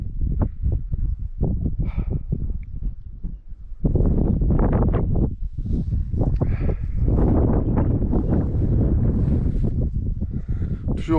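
Gusty wind over a lake buffets the microphone in rough, continuous bursts, growing stronger and steadier after the first few seconds, with no voices.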